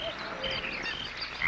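A chorus of frogs croaking continuously, with several overlapping calls of different pitches and sizes, steady and fairly close, with no voices.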